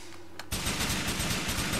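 Gunfire in the video game GTA 4 bursts in suddenly as a dense, rapid automatic volley, loud and continuous after a brief quieter lead-in.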